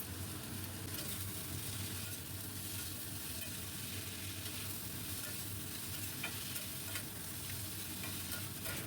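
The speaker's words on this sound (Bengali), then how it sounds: "খুব ভালো করে আমি নাড়তে থাকবো" Tomato masala stirred in a pan with salt and ginger-green chilli paste, a steady broadband sizzle with scraping stir sounds running continuously, close and fairly loud, no voices.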